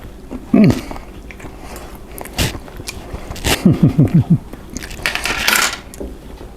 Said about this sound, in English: I'm gonna try one of these shrimps now.